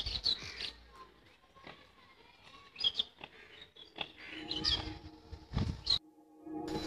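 Pigeons and other birds on a rooftop give scattered, faint chirps and short calls at irregular intervals against a quiet outdoor background.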